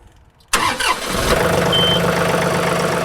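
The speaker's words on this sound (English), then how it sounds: "go ahead and start up the tractor" A John Deere tractor engine cranks briefly, catches with a sudden loud start, and settles into a steady, rumbling idle up close.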